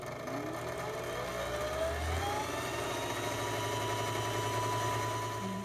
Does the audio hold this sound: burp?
no